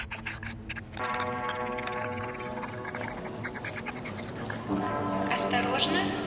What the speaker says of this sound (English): The way I'm going to remove the finish is I'm going to scrape it off